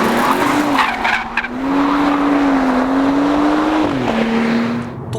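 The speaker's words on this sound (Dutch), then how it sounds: "Compacte auto, dikke motor, echt een dikke motor, echt heel dik." BMW M135i compact rear-wheel-drive car with a big engine, pulling hard with a sustained droning engine note that rises and dips in pitch, loud and close with no talking over it.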